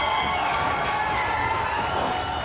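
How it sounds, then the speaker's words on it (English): Wrestling crowd at an independent UPW show roaring and cheering as a masked wrestler makes his entrance, a steady wash of distant cheering and shouting throughout. "Crowd is going nuts."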